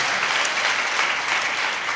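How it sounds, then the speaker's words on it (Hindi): A church congregation applauds the pastor at a gospel service, steady dense clapping that holds evenly throughout the short stretch. "पास्टर साहब के लिए ताली बजाइए"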